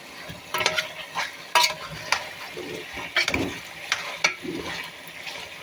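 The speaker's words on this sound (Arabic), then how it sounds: "انزلي بقى كده على الفراخ دي وقلبي بقى وشم الروايح" Chicken being stirred in a frying pan with chopped garlic, sizzling steadily while a spoon scrapes and turns the pieces in several separate bursts, close up with no talking.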